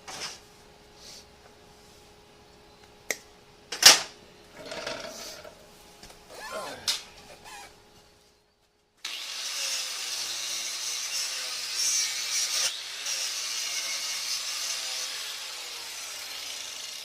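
A smoothly running ESAB Fabricator 141i flux-core welder gives a steady, even crackling hiss for about eight seconds. It follows a quieter stretch of clicks, knocks and handling noises and a brief silence.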